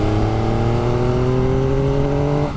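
A 2021 MV Agusta Dragster 800RR motorcycle pulls in fourth gear at about 35 mph, its loud, smooth engine note climbing steadily in pitch as it accelerates, then easing off at the very end.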